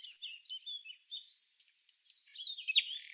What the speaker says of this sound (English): That's the house sparrow, one of the most familiar and underestimated birds in Greece.